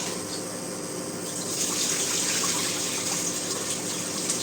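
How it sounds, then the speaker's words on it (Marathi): Fenugreek leaves are washed under running water, a steady gushing tap stream that grows fuller and louder partway through, with no talking. "त्यामुळे ना भाजी व्यवस्थित अशी धुवून घ्यायची आहे"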